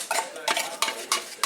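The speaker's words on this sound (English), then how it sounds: "So I'm just using the spoon there just to get the last" A spoon scrapes caramel filling from a bowl in a home kitchen, four or five short, rhythmic scraping strokes, close and clear with no talking.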